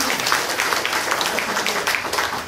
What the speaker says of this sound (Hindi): इन तीनों के लिए आप जोरदार एक बार तालियां बजाएं।